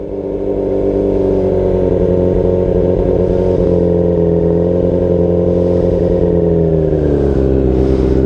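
Motorcycle engine running loud and close as the bike pulls away, a steady low drone whose pitch dips and shifts near the end as it moves off.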